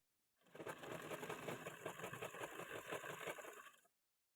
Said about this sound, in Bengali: দেখো তাহলে কিনার বরাবর চাপ সেলাইটা দিয়ে নিয়েছি।